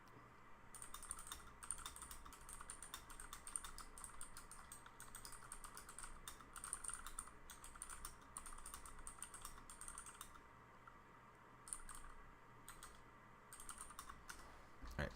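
Steady, fast clacking of keys on a mechanical keyboard, close and fairly quiet, with brief pauses between bursts of typing.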